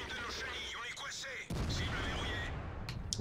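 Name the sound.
AMX 50B tank gun firing in a video game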